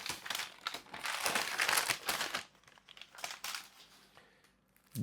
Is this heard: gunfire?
no